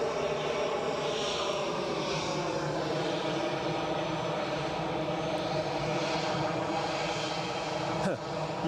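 Airliner beginning its takeoff roll at Edinburgh airport, a steady loud engine roar with rising and shifting tones that fills the whole clip, heard from a spotting position at some distance.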